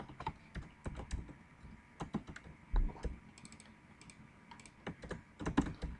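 Typing on a computer keyboard, a close, uneven patter of key clicks in quick bursts with short pauses between them, with no speech.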